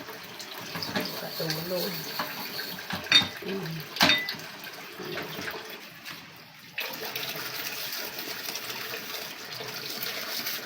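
Running tap water splashes into a sink as dishes are washed, with clattering pots and a steady gush that briefly cuts out and resumes; a person speaks over it.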